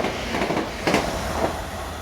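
Train 70134 running from Brighton to Bedford passes at speed, a loud continuous rumble and roar with brief wheel clatter and hiss, heard close by without speech.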